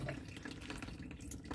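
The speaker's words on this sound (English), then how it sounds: "oily water, crap just really draining out of the center baffle" Oily water draining from the center hull baffle of an armoured personnel carrier, a faint close trickle and splatter with uneven small splashes throughout.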